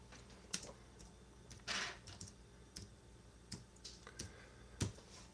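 Keys tapped on a computer keyboard while typing a search, a handful of sharp, irregular clicks spread over a few seconds, close and fairly quiet, with no talking.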